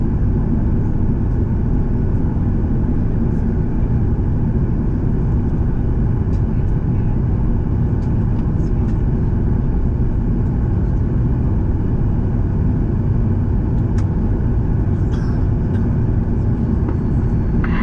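Inside the cabin of a Delta jet airliner waiting for takeoff at St Croix airport, a loud, steady low rumble and hiss from the engines and air system runs throughout, with a faint voice underneath.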